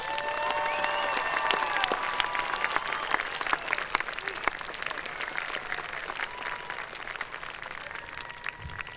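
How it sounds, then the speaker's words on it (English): A commencement ceremony crowd applauds steadily, a dense patter of many hands clapping that carries on without pause, with a few whoops rising above it. "Please join me in a round of applause for all of our bachelor degree students."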